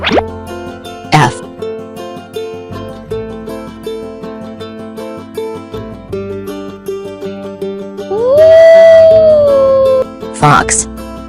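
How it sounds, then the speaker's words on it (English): A single rising-then-steady fox howl from a children's animal toy sings out for about two seconds over light repeating music, bracketed by short sharp clicks. "Fox."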